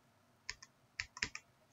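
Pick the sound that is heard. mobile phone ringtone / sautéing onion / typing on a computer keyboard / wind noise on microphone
typing on a computer keyboard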